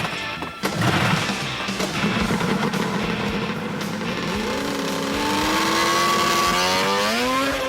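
A 180 horsepower vehicle is driven flat out across water. Its engine roars and revs with rising, wavering pitch, and splashing churn comes at first before a sustained high-revving drone.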